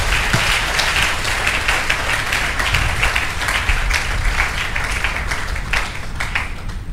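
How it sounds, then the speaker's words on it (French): Church congregation applauding during a sermon, a dense continuous round of clapping from many hands, loud and sustained for the whole stretch. "Est-ce que nous pouvons applaudir le Seigneur pour encourager?"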